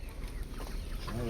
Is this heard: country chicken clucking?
yes